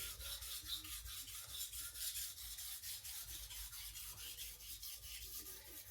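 A Takayuki Shibata knife is ground on a whetstone with a steady run of rhythmic rasping strokes, close and even, about three per second with no pauses.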